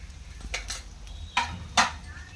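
Chana dal, urad dal, cumin and mustard seeds hit hot oil in a pan, giving short crackling bursts and a few sharp pops over a low background hum, with no talking.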